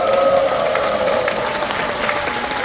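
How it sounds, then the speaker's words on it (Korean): Sustained audience applause at a People Power Party district convention in a hall, steady dense clapping throughout with faint crowd murmur and a tonal hum underneath. "우리 큰 박수 한번 부탁드립니다"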